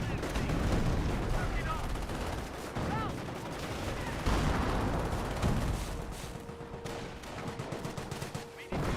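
Infantry squads trade rifle and automatic fire in Company of Heroes, a steady crackle of shots with heavier booms mixed in, while a commentator talks over the battle.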